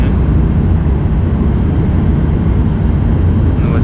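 Steady, loud, broadband cabin roar inside an airliner in flight over the Caspian Sea near Astrakhan, a constant low rumble with no breaks.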